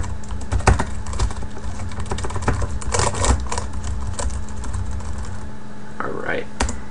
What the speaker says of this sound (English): This is an Apple wireless keyboard, by the way.